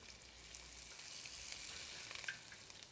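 Curry leaves, finely sliced shallots and green chili frying in a pan on reduced heat for a Kerala banana blossom stir-fry, a faint, even sizzle with light stirring scrapes and no talk.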